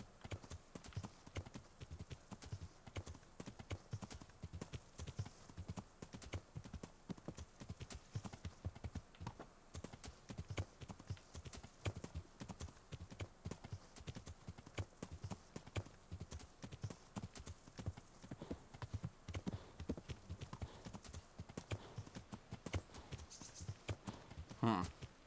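Horse hooves clip-clopping in steady rhythm while riding in Kingdom Come: Deliverance, a continuous quiet patter of hoofbeats with an occasional faint whinny, running alone without talk.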